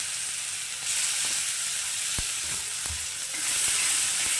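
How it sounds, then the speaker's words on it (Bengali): Chopped medium-sized onions sizzle and fry in hot oil with whole spices such as cardamom, a steady crackling hiss with a few soft scrapes and clicks of stirring, close and alone. "তো আমি এখানে দিয়ে দিচ্ছি দুটো পেঁয়াজ কুচি মিডিয়াম সাইজের কুচি করে কাটা পেঁয়াজ"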